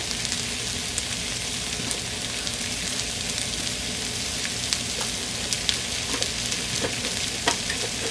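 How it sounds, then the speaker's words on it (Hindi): Oregano being stirred into chicken sandwich filling in a hot pan, a steady bed of sizzling and frying with light scraping stir sounds running throughout, close and alone without voices. "इसको अच्छी तरह से ऊपर नीचे कर लें, मिक्स कर लें।"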